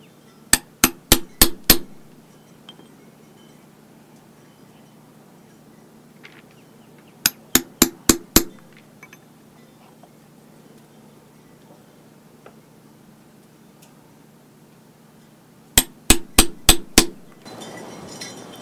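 Leather knife sheath being tooled: three quick bursts of sharp, close mallet taps, four or five strikes each, separated by quiet pauses over a faint background hum.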